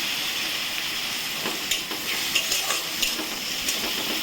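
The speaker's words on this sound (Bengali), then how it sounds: "এটা দিয়ে আমি আরেকটু কষাবো। এতে আমি আদা বাটাটাও দিয়ে দিচ্ছি।" Coriander paste and ginger paste sautéing in a pan, a continuous close sizzle with repeated spatula scrapes and stirring strokes in the second half.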